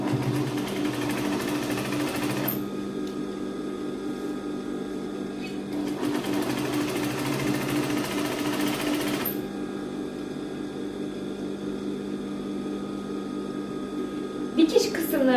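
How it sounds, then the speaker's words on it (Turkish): A sewing machine stitches a child's trousers in a steady, close motor whir that runs in two long bursts separated by short pauses, with a faint hum and a couple of small clicks near the end. "Dikişimi bu şekilde gerçekleştiriyorum."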